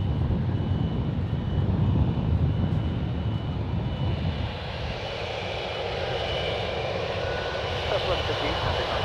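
A jet airliner taking off at San Francisco International Airport sends a loud, broad engine roar that is heavy at first and then eases slightly and thins as it continues.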